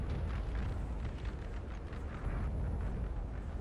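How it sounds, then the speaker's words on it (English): French artillery bombarding in the Napoleon: Total War game, a steady, continuous rumble of distant cannon fire with no breaks, moderately loud and without any talk over it. "the French artillery is pounding the Russian cavalry position"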